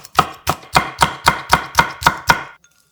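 A knife chops a halved cheongyang chili pepper into fine slices on a board, nine crisp, evenly spaced strikes in a steady rhythm, close and clear, ending in silence.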